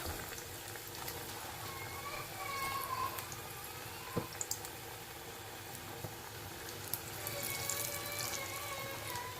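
Spoonfuls of pakora batter with mixed ingredients drop into hot oil in a pan, giving a continuous bubbling sizzle at close range, steady throughout with a few small pops and clinks.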